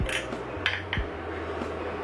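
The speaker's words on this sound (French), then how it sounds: "Je mets la cuillère dedans." A spoon clinks against a bowl holding an oat pancake batter, with a couple of light metallic taps and soft scraping in a quiet kitchen.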